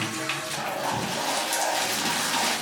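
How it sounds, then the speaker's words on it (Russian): Water rushes from a hose under strong pressure during home renovation, a steady, loud hiss of spray that stays unbroken throughout. "когда открываешь общий краник на воду, то вода течет из шланга"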